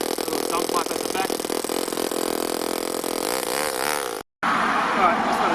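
A four-stroke engine on an RC buggy runs close by with a small dump pipe at the back, holding a steady buzzing rev with small wavering pitch changes, then cuts out for a split second and resumes.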